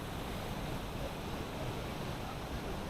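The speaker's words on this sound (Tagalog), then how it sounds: "Lakas ng tubig." Strong irrigation water rushing through rice fields in Barangay Calabwag, Bustos, Bulacan, a constant loud broadband roar of flowing water with no pauses, heard close and alone.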